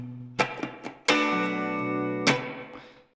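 Electric guitar played through the spring reverb of a Keeley Delay Workstation pedal: a few picked notes, then a strummed chord that rings and sustains with a splashy tail, followed by another struck chord that decays, with no talking.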